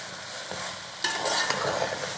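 Macaroni is stirred and scraped around a hot pan, with a sizzle of frying under a few sharp scraping strokes and a louder burst of stirring midway, no voices.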